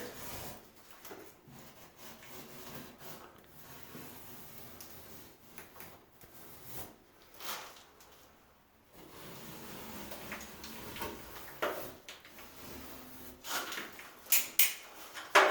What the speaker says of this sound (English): you start carving and Brad can show you the rest of the walls